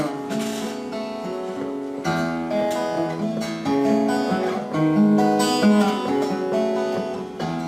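A guitar picks out a cowboy tune on only four strings in a live concert setting, with clear plucked notes and chords ringing steadily and close, played alone without voices.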